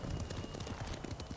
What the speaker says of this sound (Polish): O, patrzcie, jestem na koniu, nie?